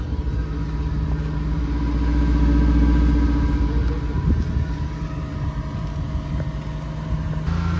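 A Nissan Sentra B13 with an ECCS engine runs at idle, its exhaust giving a steady low rumble close by that swells slightly midway, with no talking.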